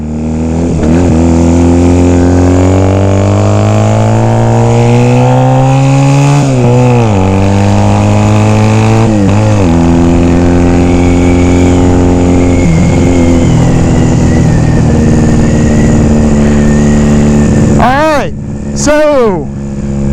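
A Honda Rebel 250 motorcycle engine runs close and loud, climbing through several revving gear pulls with a falling pitch between shifts, then a couple of sharp revs near the end.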